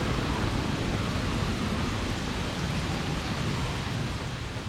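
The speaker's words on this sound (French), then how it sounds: "Oh, l'orage semble s'éloigner" Steady rain and storm rumble from a cartoon thunderstorm, a dense continuous wash of heavy rainfall with low thunder underneath, loud and close throughout with no voices.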